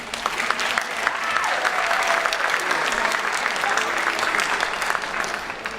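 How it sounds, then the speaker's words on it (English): Audience applause at a school district convocation, a full, sustained roar of many hands clapping that swells slightly midway and stays loud, with faint crowd voices underneath. "a thunderous round of applause"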